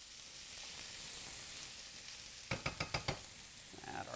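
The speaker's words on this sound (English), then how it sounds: "we're going to go in with our chopped onions" Chopped onions sizzle in a hot pan with a steady hiss, then five quick utensil clacks against the pan arrive in a rapid run before the frying hiss carries on alone.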